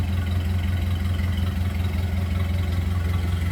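A 1931 Ford Model A engine idling steadily, a low even rumbling purr with a regular pulse, close by and uninterrupted.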